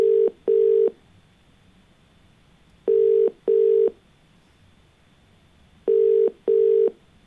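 Telephone ringback tone on a call to a TV show caller: three pairs of short steady beeps, each pair about a second long and separated by roughly two seconds of quiet line, clear and alone.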